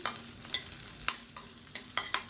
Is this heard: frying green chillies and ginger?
yes